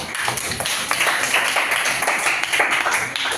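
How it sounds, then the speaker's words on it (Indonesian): A classroom of students claps for a group that has just finished presenting, a dense burst of steady applause from many hands at close range, lasting the whole stretch without talk. "Kasih tepuk tangan dulu untuk kelompok ya."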